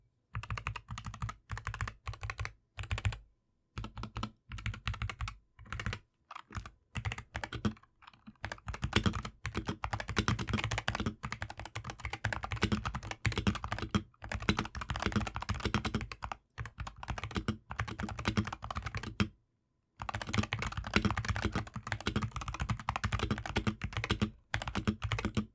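Typing on an NZXT Function 2 MiniTKL keyboard with pre-lubed switches and double-shot PBT keycaps, close and clear, in bursts of rapid keystrokes separated by brief silent pauses.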